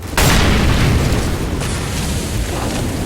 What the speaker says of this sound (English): Big grenade comes in, does some serious damage.